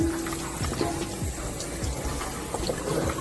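Cool tap water runs over and into a raw turkey being rinsed inside and out, a continuous splashing stream with uneven gurgles and spatters close by, heard alone.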